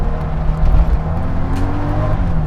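Porsche 911 converted into an off-road trophy truck, its engine droning and revving steadily through deep ruts, a loud close rumble that swells and eases without a break.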